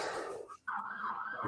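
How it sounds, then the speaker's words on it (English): An emergency siren sounds outside, a faint, steady wailing tone heard behind close indoor voices and breathing, briefly interrupted midway. "Excuse the siren."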